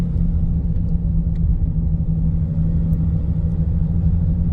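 A 2025 RAM 3500 Laramie dually truck drives over a bumpy road, heard from inside the cabin as a steady, loud low rumble and road hum with faint small knocks.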